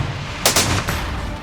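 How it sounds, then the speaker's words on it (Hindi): A few sharp gunshots crack in quick succession, close and loud, over a low rumbling background, during a police shootout. "गोलियां बरसने लगीं।"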